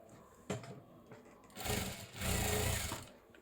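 A sewing machine joins the sides of a child's ruffle frock, stitching in short bursts that build to a steady whirring run, close and fairly quiet.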